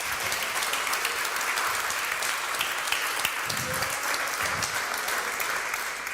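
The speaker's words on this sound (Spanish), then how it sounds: "Aplauda, sigue." A church congregation claps steadily during a worship service, the dense applause continuing throughout with a few brief low murmurs or voices beneath it.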